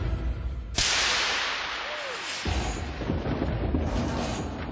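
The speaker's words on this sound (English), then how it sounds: "has agreed to create some lightning for our tests" Artificial lightning strike produced in a high voltage laboratory: one sudden, very loud sharp crack that rolls on into a long, dense rumbling roar, with a second surge of noise about halfway through.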